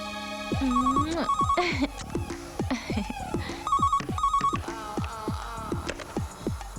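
A mobile phone rings loudly and close, its electronic ringtone repeating in short bursts of tones with brief gaps, heard alone without speech.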